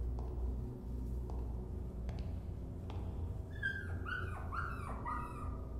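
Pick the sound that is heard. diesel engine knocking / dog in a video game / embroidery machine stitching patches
dog in a video game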